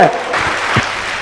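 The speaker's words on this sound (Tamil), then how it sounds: "உங்களுடைய பாராட்டுதலை இந்த பலத்த கைத்தட்டலோடு நீங்க சொல்வதை போல" Loud applause from a live audience at a Tamil pattimandram comedy debate stage event, a dense burst of clapping filling the short stretch from start to finish.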